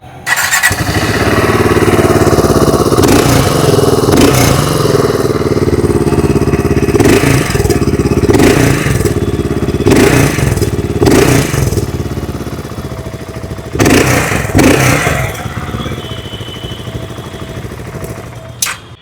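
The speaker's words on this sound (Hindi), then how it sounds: "आइए अब सुन लेते हैं इस बाइक की एग्जॉस्ट नोट।" A 650cc single-cylinder BSA Scrambler 650 motorcycle fires up close by, idles with a thumping exhaust, then takes several sharp revs with pauses between before settling back to idle.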